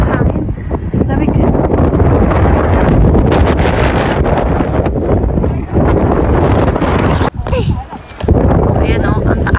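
Strong gusts buffet a microphone outdoors in cold weather during Chinese New Year in Fujian, loud and blustery with a brief drop near the end, while people chatter underneath.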